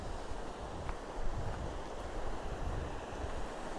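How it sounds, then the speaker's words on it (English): A river flowing on a walk near Edinburgh and Cramond makes a steady, even rush of water that blends with gusty wind noise on the microphone. "you see where the water's beginning to flow"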